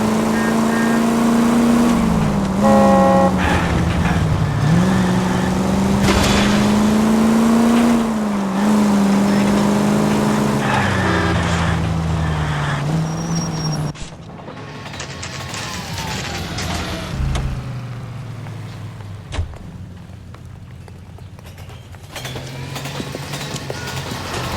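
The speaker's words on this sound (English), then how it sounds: "That's the car, Cole. Just pulling out of the drive." Car engine in the L.A. Noire video game pulling out of a driveway, a steady rising and falling motor drone for the first half, then thinner mixed game sounds with faint rumble and clatter.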